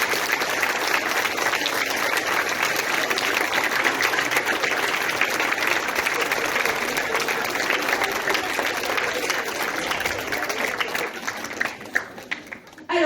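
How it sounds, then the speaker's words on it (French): A school audience of parents and families applauds the teachers and school staff with steady, dense clapping that holds for most of the stretch, then thins out toward the end. "Vous pouvez applaudir tout le monde, l'équipe des enseignants et toute l'équipe de l'école."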